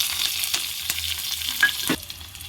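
Cumin, curry leaves and green chillies fry in hot oil in a pan for a palak paneer khichdi, giving a close, steady sizzle with a few stirring scrapes.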